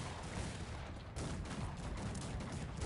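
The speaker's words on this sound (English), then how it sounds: "Brave melee fighters getting mowed down by guns." Dense gunfire from musket troops mowing down melee fighters in the strategy game Cossacks 3, a continuous loud crackling volley of overlapping shots with a sharper burst near the middle, no talk.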